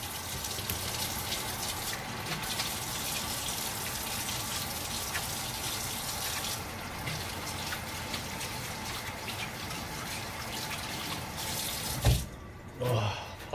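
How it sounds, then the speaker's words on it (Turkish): A tap runs continuously into a sink while hands are washed, a steady close splashing rush that stops abruptly near the end, followed by a few faint thumps. "Ben bir elimi yıkayayım."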